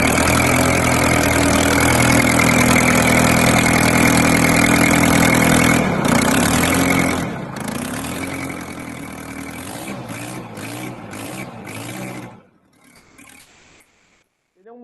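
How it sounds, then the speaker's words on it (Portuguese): Detroit Diesel engine running on a piece of equipment, a loud steady idle with a deep rumbling drone that eases down partway through, turns rougher and pulsing, then cuts off and quiets near the end. "Ele é um motor Detroit, tá? Motor Detroit diesel."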